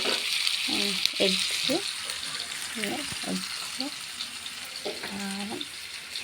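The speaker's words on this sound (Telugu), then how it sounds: "బాగా వేగనిద్దాం." Curry base for a country-chicken egg gravy sizzles and fries steadily in a pan while being stirred, a continuous hiss running under intermittent talk throughout.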